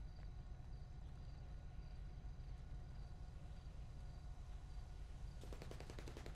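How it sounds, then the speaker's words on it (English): Rapid bursts of gunfire crackle through a dense, steady background roar, with a sharp cluster of shots near the end, in a video game roleplay firefight. "Exchanging gunfire."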